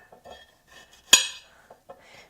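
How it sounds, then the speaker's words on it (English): A kitchen knife chops through the crusty ends of carrots on a board while preparing a vegan Thai soup, giving one sharp, close, loud chop followed by a few fainter knocks and brief handling sounds, with no talk. "we're just going to start by chopping off both ends"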